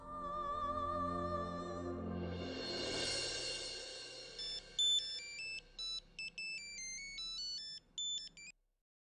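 A phone ringtone sounds before a call: a sustained chiming tone first, then a quick melodic series of bright electronic beeps in short bursts, clear and close with no talking.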